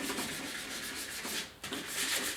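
Rapid back-and-forth strokes of 320-grit sandpaper rub over a steering wheel from a 1956 Mercury pickup, a close, steady rasping with a brief pause midway.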